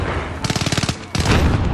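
Rapid automatic gunfire in a video game match, two loud close bursts of quick repeating shots separated by a short gap, with a voice faintly underneath.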